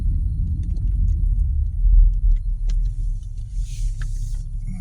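A car drives along the road into town, heard from inside as a steady deep rumble of road and engine noise, with a few light clicks and rattles on top and no voices.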